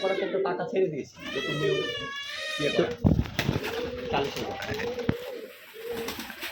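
Pigeons coo at a pigeon farm, soft throaty calls mixed in beneath someone speaking throughout, with a few sharp clicks and bumps nearby.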